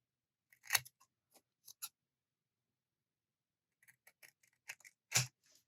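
Scissors trim a junk journal cover in a few short, crisp snips, two quick cuts near the start and a cluster of sharper snips after a pause, close and clear in a quiet room.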